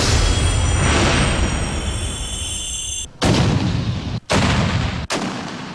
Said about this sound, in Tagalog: nagpakawala ng 105mm howitzer ang mga kanyon ng Armed Forces of the Philippines